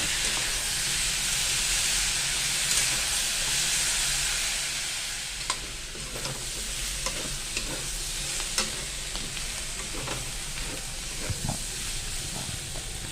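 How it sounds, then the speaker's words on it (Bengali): Potatoes, tomato and spring onions fry in a pan with a steady bright sizzle and hiss, broken by occasional scraping stirs and small pops, continuous and close with no talking. "এবার আমি একে একে পেঁয়াজকলি দিয়ে দেব, দিয়ে আবারও এটা আমি বেশ কিছুক্ষণ ধরে ভাজতে থাকবো"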